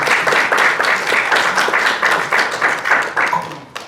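Audience applause at a library storyslam as a storyteller takes the stage, dense steady clapping from a crowd that holds throughout and thins slightly toward the end.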